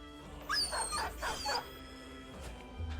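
A dog in the Battle Brothers video game gives two quick whining yelps close together, fairly clear over a quiet game background, followed by a softer faint whimper.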